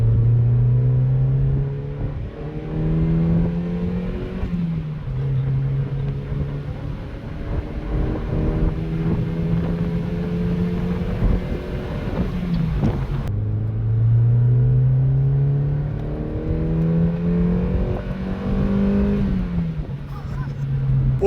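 A Mazda MX-5 NB's exhaust rises steadily under acceleration from inside the car, its note climbing through a gear and dipping briefly at two shift points before pulling up again, loud and continuous throughout.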